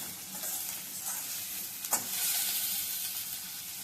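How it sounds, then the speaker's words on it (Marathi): Onions frying in oil with salt for kande pohe, a steady close sizzle with a brief stirring scrape midway, no voices. "कांदा घालताना त्यामध्ये मीठ घालून द्यायचं आपण, की कांदा लवकर भाजला जातो तेलामध्ये"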